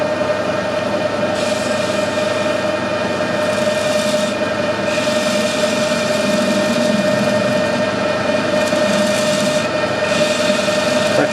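A metal lathe faces off the end of a workpiece, giving a steady, continuous mechanical whir with a constant tonal hum that stays at an even level throughout.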